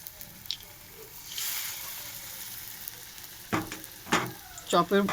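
Stuffed ash gourd chops fry in hot oil with a broad, soft sizzle, joined by a few sharp crackles and spatters toward the end; no talking.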